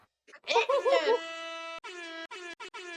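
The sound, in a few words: sad horn sound effect from a video game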